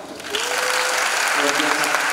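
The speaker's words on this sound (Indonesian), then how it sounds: "Tepuk tangan dong." Audience at a Friday religious study gathering breaks into dense applause that swells quickly and holds steady, with voices audible through the clapping.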